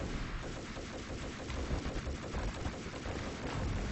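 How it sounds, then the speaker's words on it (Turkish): Gunfire in the video game Max Payne rattles as a dense, continuous burst of shots, muffled and fairly faint, with a steady low rumble running throughout. "Sıkıyorum ama umarım birilerinin canı gidiyordur bu arada."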